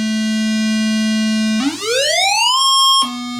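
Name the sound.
Moog Sonic Six oscillator pitch rising during envelope attack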